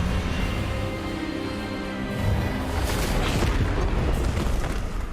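Expelliarmus spell effect in Hogwarts Legacy, a loud booming magical blast that swells after a rumbling lead-in and roars on to the end.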